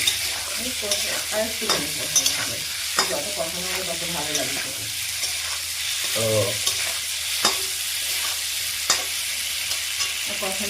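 Masala for a tangra fish curry with cauliflower sizzles in a pan, under a steady frying hiss with irregular scraping stir strokes and occasional soft knocks, while people talk quietly.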